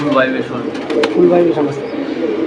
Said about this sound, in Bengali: এখানে একটা কবুতর দেখতেছি কি কবুতর